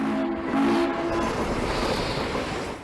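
A train rumbles along the tracks while its horn sounds a steady, loud blast at the start, then fades to a continuous rolling rail noise without talk.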